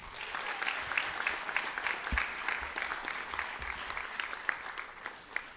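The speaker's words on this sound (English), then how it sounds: "Another round of applause for Jennifer." Audience applause at a school district employee recognition event, a steady, fairly quiet patter of many hands lasting several seconds, with a few louder individual claps standing out.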